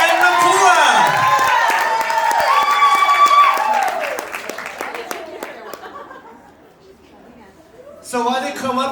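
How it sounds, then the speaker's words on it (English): A concert audience applauds and cheers for three dancers, Leilani, Jeannie and Napua, with clapping and voices loud at first, fading down, then swelling briefly again at the end. "let's have a big round of applause for Leilani, Jeannie, and Napua!"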